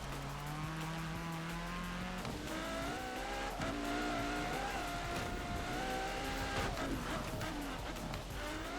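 A car in Forza Horizon 4 on a rain-wet road, its engine revving hard and whining as the rear end slides out, with tire squeal mixed into a steady, loud drone.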